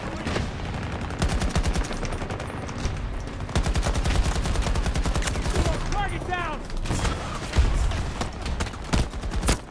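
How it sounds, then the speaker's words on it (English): Heavy automatic gunfire in Battlefield 2042 with an AK rifle, rapid close bursts and distant shots in dense repeated volleys, a voice talking intermittently over the shooting. "What is this guy doing over here shooting at me?"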